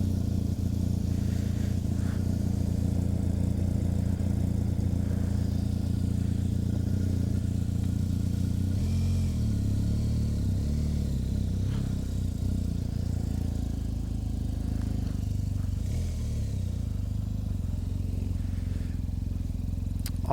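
A 2023 BMW R 1250 GS motorcycle engine runs with a steady, deep rumble throughout, close by and unchanging, with no talking.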